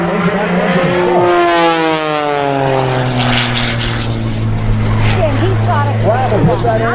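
An all carbon fiber MX aerobatic propeller airplane flies past at an airshow, its loud engine whine sweeping down in pitch as it passes close, with crowd noise and an announcer talking beneath.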